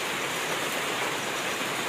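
Steady, dense rain falls during Diwali festivities, a continuous close hiss without pauses or other sounds.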